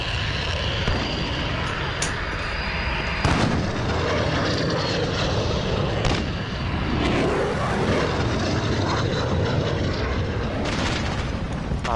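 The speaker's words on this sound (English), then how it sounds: "I managed to not die by the VTOL jet, not one time." Jet aircraft engine roar from a VTOL jet in a modern FPS shooter video game, a loud continuous rumbling drone filling the whole stretch with booming blasts mixed in.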